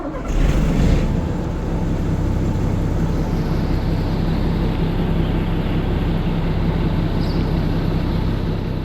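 A Bison military vehicle's engine started on a Titan-40-24 battery: a brief cranking burst at the start gives way to a loud, steady low engine rumble and drone that continues throughout, with no talking.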